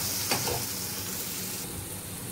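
Agri Koli masala with turmeric sautéing in hot oil, a low steady sizzle with a quick stirring scrape near the start, quiet and close with no talking.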